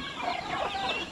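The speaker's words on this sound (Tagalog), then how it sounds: "Tapos may isa tayong lalaki dito na manok oh." Chicken clucking from a young rooster in a backyard poultry pen, a busy run of short, overlapping clucks at close range with no talking.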